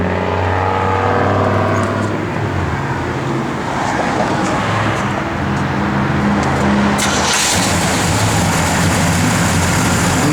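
A 1970 Pontiac GTO engine rumbles steadily at idle with a lumpy, uneven cam lope, loud and close, running throughout.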